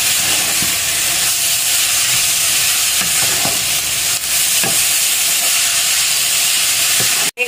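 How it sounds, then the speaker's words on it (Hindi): Grated carrots stirred and fried in ghee in a pan, a loud steady sizzle and hiss with soft scraping stirs at irregular intervals, close up and without talk. "अब हम इसे घी में अच्छे से मिक्स कर देंगे"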